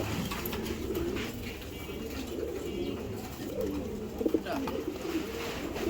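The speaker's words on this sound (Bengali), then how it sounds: "আর এটা হলো নর কবুতরটা" A male racing pigeon coos in soft low rolling phrases, close by over a steady background hiss, with no speech.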